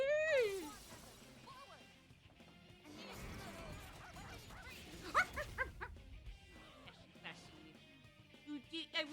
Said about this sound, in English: Look, it's dog. There's a dog.